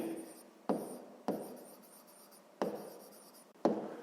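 A pen scratching across a notebook page in a quiet room, five distinct bursts of writing strokes separated by short pauses, each starting firmly and trailing off.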